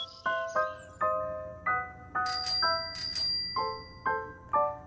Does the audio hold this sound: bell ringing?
yes